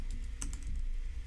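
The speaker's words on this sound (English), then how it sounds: "if I can type" A computer keyboard tapped in a short burst of a few quick, light clicks up close, with no voices.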